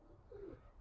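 A single low, faint coo from a pigeon in a loft swells briefly in the middle of a quiet, murky background.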